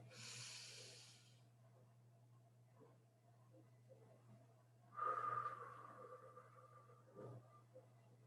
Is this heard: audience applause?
no